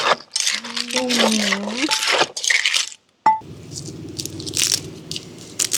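Crisp crunching bites of fried food, several close crackly crunches near the mic, alongside a person talking.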